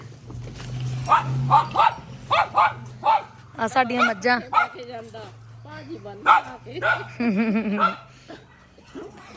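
A dog kept at a rural Punjabi village home barks in a run of short, sharp yaps, fairly close, mixed in with people talking over a low steady hum.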